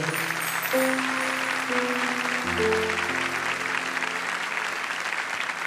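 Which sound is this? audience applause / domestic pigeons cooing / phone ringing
audience applause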